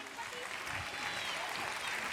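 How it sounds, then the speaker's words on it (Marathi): Audience at a kindergarten annual program clapping for the small children: steady, distant-sounding applause, quiet overall, with talk blended underneath. "आता पुन्हा एकदा सगळ्या लहान मुलांसाठी जोरदार टाळ्या झाल्या पाहिजेत"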